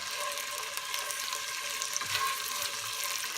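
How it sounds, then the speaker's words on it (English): Pork browning in a pan for adobo, a steady close sizzle and crackle of frying meat that holds evenly throughout with no voices. "I will put the meat next until it becomes brown."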